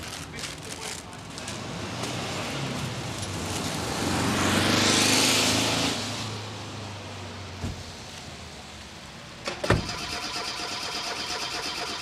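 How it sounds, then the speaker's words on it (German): A car engine cranks and whirs without catching, rising then fading, followed by clicks and a sharp knock; faint talk in the background. "Der Motor springt einfach nicht an."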